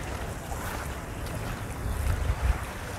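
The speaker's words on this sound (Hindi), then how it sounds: "इधर आवाज़ आ रही है समुंदर का पानी की आवाज़" Sea water washes and splashes against a wooden fishing ship, a continuous broadband rush with low rumbling surges and wind noise, fairly loud and close with no voices.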